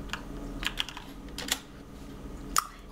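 A handful of scattered keystrokes on a computer keyboard as a Minecraft chat command is entered, sparse clicks spaced across a few seconds with one sharper tap near the end, close and fairly quiet, no voices.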